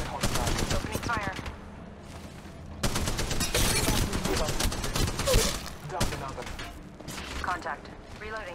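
Gunfire in the mobile battle-royale game Apex Legends Mobile, dense bursts of rapid shots in an ongoing firefight, loud and continuous with brief gaps, mixed with game voice callouts.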